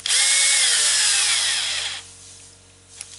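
A powered screwdriver drives screws into the chassis of a Hobao Hyper ST Pro RC truggy during assembly, a loud close whirring burst that fades out after about two seconds, followed by quiet handling noise.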